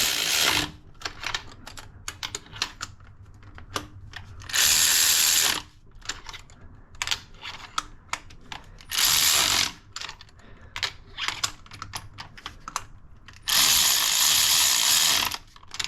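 A hand ratchet tightens the spark plugs on a turbocharged Nissan S14, clicking rapidly up close in bursts of fast pawl ratcheting separated by slower individual clicks and pauses.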